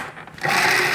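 A food processor grinds a salted dip, its motor starting softly and then surging into a loud, steady whir that holds to the end, with no voices.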